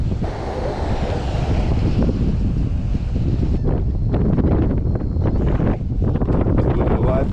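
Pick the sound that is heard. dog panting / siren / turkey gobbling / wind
wind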